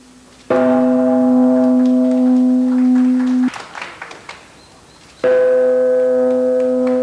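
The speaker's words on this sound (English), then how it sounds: "Then President Kubo, the mayor of Ishigaki, and the mayor of Wakkanai sounded the World Peace Bell respectively." Two strikes of the large World Peace Bell, each a loud, sustained metallic tone that rings for several seconds, with a pause and faint background noise between them.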